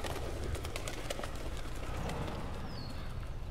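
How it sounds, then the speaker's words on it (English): Faint pigeons or doves coo softly inside a run-down church in the video game Blues and Bullets, with light fluttering clicks over a hushed, hollow room ambience. "Birds?"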